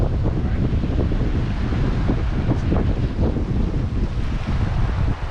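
Ocean waves wash against the shore in a steady, loud, continuous roar, heavily mixed with gusting wind buffeting the microphone, with no voices present.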